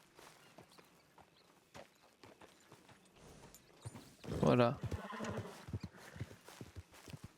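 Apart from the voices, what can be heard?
horse clip-clop and whinny in video game Red Dead Redemption 2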